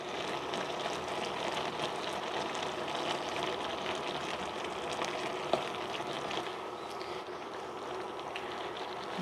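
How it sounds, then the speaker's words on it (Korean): Aged kimchi and doenjang simmering in a pot, a steady close bubbling hiss that fills the whole stretch, with stirring going on and a single faint knock near the middle. "이렇게 잘 섞어서 끓여주시고요"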